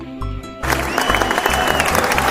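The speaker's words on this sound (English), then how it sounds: "Let us give a clap for Elizabeth." A classroom of students applauds a classmate, breaking into dense, continuous clapping after a brief quieter moment at the start.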